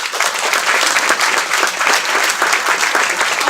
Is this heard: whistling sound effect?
no